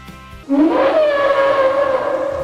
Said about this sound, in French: Il y a aussi le brachiosaure qui est un mélange entre la baleine et l'âne.